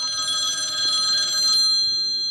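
In the horror game The Last Deadend, a telephone rings with a bright, trilling electronic bell for about a second and a half, then cuts off, leaving a faint lingering tone.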